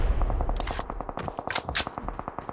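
Rapid automatic gunfire from PUBG Mobile, a steady rhythmic burst of shots with a few sharper, louder cracks near the middle, close and loud throughout.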